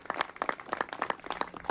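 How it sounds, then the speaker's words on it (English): An audience at a congressional field hearing on modernizing health care gives brief applause, a quick patter of close, sharp hand claps. "Let's give them a round of applause for setting this up for us today."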